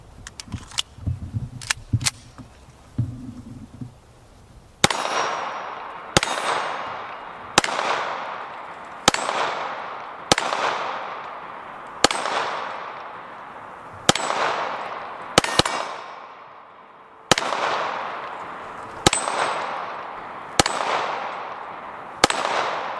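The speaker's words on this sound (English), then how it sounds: "There you go, we run that magazine dry." A Beretta 92X 9mm pistol fires about a dozen sharp, loud shots at an outdoor range, evenly spaced at roughly one-second intervals, each followed by a short ringing decay, after a few quieter clicks and knocks at the start.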